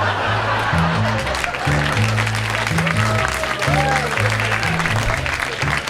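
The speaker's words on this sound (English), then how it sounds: "I need that sporadic applause on the CD," An audience at a Mitch Hedberg comedy show claps steadily in a sustained round of applause, mixed with scattered laughter, while a low rhythmic musical bass pulses underneath.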